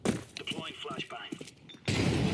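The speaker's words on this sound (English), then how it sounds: "Deploying flashbang." A flashbang grenade goes off in Counter-Strike 2: a sudden loud, hissing burst near the end cuts in after talk and holds steady to the close.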